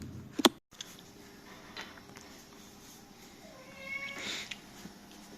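A cat in a village home at night gives a brief meow, with a sharp early call followed by a faint, drawn-out cry amid quiet background household noise.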